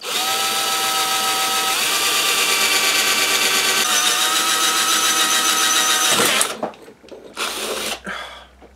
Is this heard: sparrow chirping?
no